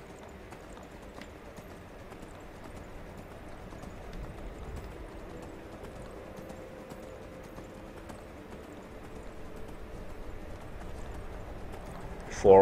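Faint rhythmic hoofbeats of a horse in the video game Skyrim clatter steadily at a gallop, quiet and continuous, with a brief louder burst at the very end.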